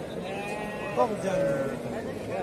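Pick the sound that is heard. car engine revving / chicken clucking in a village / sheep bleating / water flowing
sheep bleating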